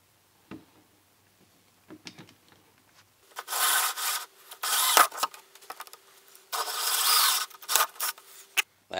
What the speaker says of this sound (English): I'm going to put the pilot into these divots right here and drill 2 3/8 holes through here.